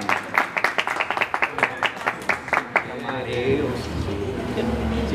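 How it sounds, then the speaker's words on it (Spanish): Scattered, rhythmic handclaps ring out close by from an audience at a mariachi birthday performance, stopping after about three seconds as talk and room noise take over. "el aplauso bonito"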